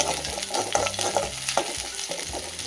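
Steady sizzling of onions frying in a pan with occasional stirring scrapes, close and continuous, no talking.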